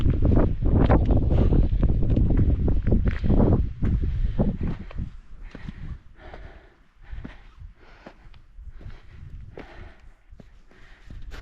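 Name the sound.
wind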